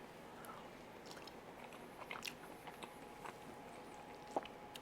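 Fried chicken with gravy and rice is chewed close up, a soft run of quiet moist bites with a few faint crunches over low background noise.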